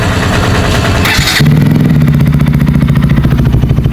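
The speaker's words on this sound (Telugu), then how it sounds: "బైక్ అయితే కోచ్ స్టార్ట్ చేద్దాం" A Bajaj Pulsar RS200 motorcycle engine catches after a short cranking burst, then settles into a steady, close, loud idle with a rhythmic throb.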